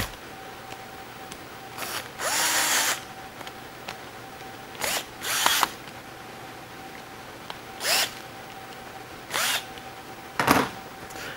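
A power stinger extension cable's end cap being tightened, likely with a power driver: several short bursts of whirring motor, each lasting about a second, separated by pauses of quiet room hum, fairly close and loud.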